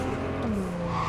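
A car in Cyberpunk 2077 drives and skids, with a sustained engine hum and a drawn-out tire squeal that bends in pitch, loud and continuous for about a second.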